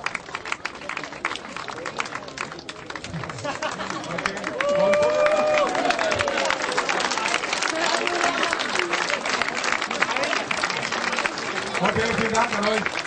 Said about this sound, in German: Applaus nochmal